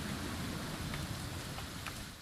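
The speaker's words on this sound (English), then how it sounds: "It's gonna rain the whole weekend, isn't it?" Rain falls steadily in the video game What Remains of Edith Finch, a continuous soft hiss of drops on surfaces with a few brief louder patters, fairly quiet throughout.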